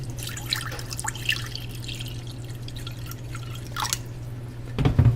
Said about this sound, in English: I'm taking this pan and fill with some water.